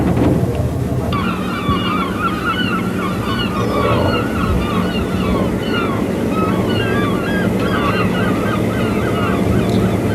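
Seagulls call over a seaside harbour as fishing vessels come into port, loud squawking cries repeating over steady surf and waves, near and continuous.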